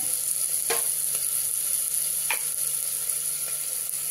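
Spices sizzling in hot oil for a ridge gourd curry, a steady bright frying hiss with a few sharp crackles and stirring scrapes, close and continuous.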